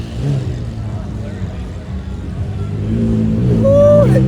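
Several supercars leaving a car event in Barrington, an engine revving and accelerating away nearby, rising in loudness toward the end under a voice.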